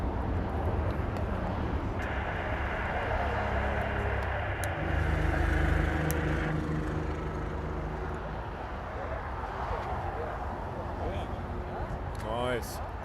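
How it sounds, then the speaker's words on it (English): A C-130 aircraft flying overhead in Los Angeles, a broad steady engine roar that swells and fades over several seconds, with people talking over it. "C-130's coming."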